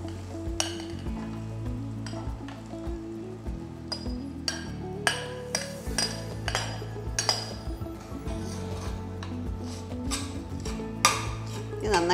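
Cooked rice is added to a lemon rice mixture in a pan, with repeated sharp metallic clinks of a spoon against the pan over a soft continuous sizzle and stirring.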